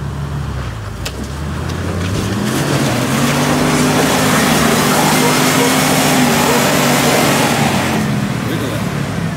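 Off-road vehicle engine revving hard on the Hackett Gulch trail, a loud sustained drone that climbs and holds in pitch for several seconds, with people talking over it.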